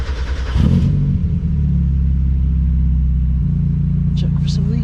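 A 1994-1997 NA Mazda Miata engine cranks and catches, then settles into a steady, loud, close idle with a slight step in pitch partway through.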